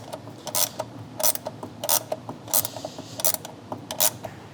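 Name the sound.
wrenches tightening a bolt and nut on intake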